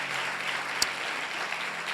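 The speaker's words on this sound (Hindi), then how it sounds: "आए खुदावंद के लिए जोरदार तालियां बजाएं।" A congregation claps during a Hindi-language church service, giving a brief, fairly quiet burst of steady applause with one sharper clap standing out.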